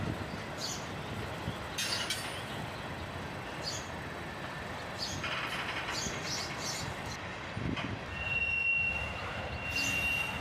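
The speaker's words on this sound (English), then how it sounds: "this massive train just keeps coming" A long freight train of CSX and Union Pacific boxcars and auto racks rolls past nearby, a continuous rumble of wheels on rail with intermittent metallic squeals and one brief high whine near the end.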